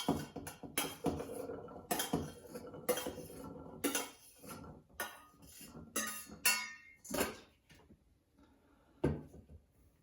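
Chickpeas are spooned into a container while making hummus, giving a run of close, uneven clinks and scrapes of spoon on vessel with short pauses between scoops, and no one talking.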